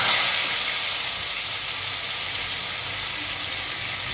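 Raw chicken pieces for KFC-style fried chicken fry in hot oil, giving a loud, steady, close sizzle and hiss that opens strongest and holds evenly throughout with no talking.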